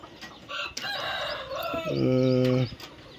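Chickens on a farm where a hen has hatched chicks: a rooster crows loudly and steadily at close range, the drawn-out call rising then holding before cutting off, with softer clucking before it.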